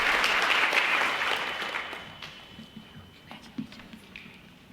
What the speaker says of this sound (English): If you want to wait for applause till the end, but I don't think anyone's really doing that